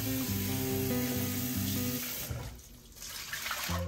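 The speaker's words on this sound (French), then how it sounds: "Il me reste simplement à vider l'eau de l'intérieur et à le rincer." Water splashing and running at a kitchen sink as a jar is emptied and rinsed, a steady close wash over background music that thins out briefly near the end.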